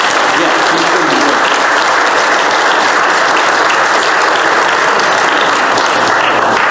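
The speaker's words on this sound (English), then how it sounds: "Let's give her a round of applause in advance." Applause from a church congregation fills the whole stretch as steady, dense clapping that stays loud from start to finish with no break, with some mixed voices in the room beneath it.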